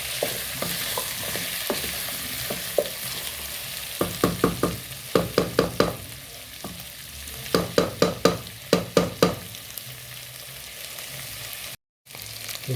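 Spoon stirring beef stew with potatoes in a cooking pot, a series of quick scraping, clattering strokes in bursts, with faint sizzling underneath and no talking.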